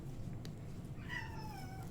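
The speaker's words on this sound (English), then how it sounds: "Kitty. Meow." A cat gives a single faint, drawn-out meow in the second half, heard from a distance over a steady low room hum during a tabletop card game session, with no talk over it.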